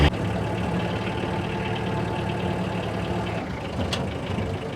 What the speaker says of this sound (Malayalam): ഈ വാഹനം ഓടിച്ചു പോകുമ്പോഴേ ഗിയറൊക്കെ ഇങ്ങനെ മാറ്റി നല്ല അടിപൊളിയായിട്ട് നമുക്ക് ഓടിച്ചു പോവാം